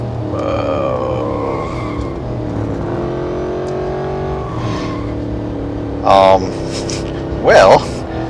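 An Aston Martin Vantage in the Real Racing 3 racing game revs toward top speed, its engine note sustained and climbing, with two brief louder bursts near the end.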